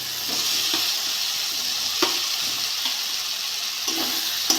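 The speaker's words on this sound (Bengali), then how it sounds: "আলুগুলো দিয়ে ভালো করে কষে নেবো।" Potatoes stir-fried in a spice masala for a rohu fish, potato and eggplant curry give a steady, close sizzle with faint scraping stirs throughout and no talking.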